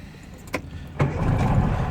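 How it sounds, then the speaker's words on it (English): Subaru 360 with a two-stroke engine starting up: a door-like clunk and a sharp click, then the small engine catches and settles into a rough, buzzing run nearby. "Turn the car on."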